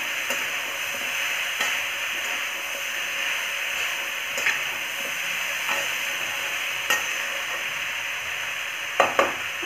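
A Bihari-style dish sizzles steadily in a hot pan while a utensil stirs it, with occasional scraping clicks against the metal over a constant frying hiss, close and alone.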